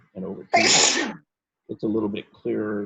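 During an online painting and mixed media class, a person lets out one loud, sharp sneeze, close to the microphone, between stretches of someone talking.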